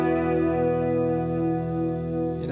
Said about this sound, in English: That's just delay and reverb.